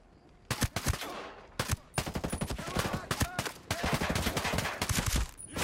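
Rapid bursts of automatic gunfire in the shooter game Ghost Recon Breakpoint, dense crackling volleys with short gaps between them, loud and close.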